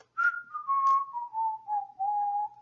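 A woman whistling to herself, a short, soft tune of several sustained notes gently descending in pitch, close and alone.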